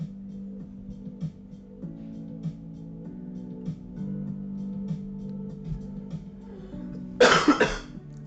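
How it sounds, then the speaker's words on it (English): A single short burst of coughing near the end, sharp and close, following a stretch of low steady hum with faint background tones. "Plus, you gotta hear my cough."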